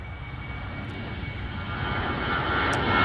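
A regional jet at Chicago O'Hare International Airport, a steady broadband engine roar that slowly grows louder as the aircraft nears, with no voices over it.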